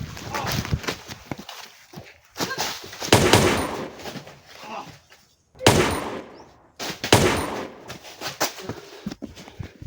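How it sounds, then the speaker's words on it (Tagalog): Several sharp gunshot bursts in a video game ring out among footsteps and rustling movement, fairly close and loud, spaced a few seconds apart. "Naalarma sila sa putok ng baril."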